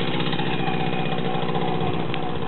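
A Romet Pony motorcycle engine runs steadily in first gear, a continuous low, buzzing drone that stays close and even throughout with no talking.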